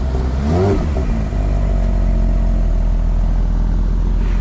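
A Porsche GT3 Touring arriving at a car meet gives a loud, close rev that sweeps up and falls back early on, then settles into a steady, rumbling idle with no talking.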